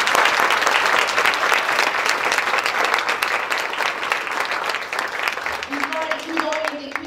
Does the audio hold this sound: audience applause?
yes